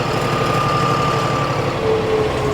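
Steady diesel engine of a John Deere tractor running at a constant idle-like throb, close and loud, with a low rumbling pulse and faint vibration, no voices.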